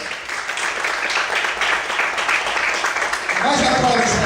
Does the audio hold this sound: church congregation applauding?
yes